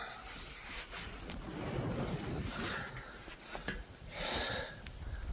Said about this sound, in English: The wind is up a little bit.